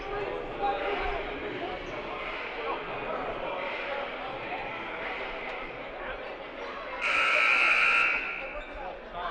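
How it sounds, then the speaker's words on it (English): At a UMass Boston versus Rhode Island College men's basketball game, a loud, steady arena buzzer sounds for about a second and a half near the end, over a constant murmur of crowd noise and background talk. "As the buzzer sounds, both teams should be ready to go now."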